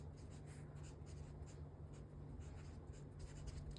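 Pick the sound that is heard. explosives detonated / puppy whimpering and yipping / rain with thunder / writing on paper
writing on paper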